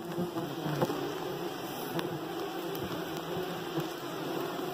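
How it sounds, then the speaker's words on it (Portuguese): Borá stingless bees swarm inside an opened, propolis-sealed wooden hive, giving a steady close buzzing drone throughout with a few brief louder passes, and no talking. "Esse enxame tá lotado e ele propolizou."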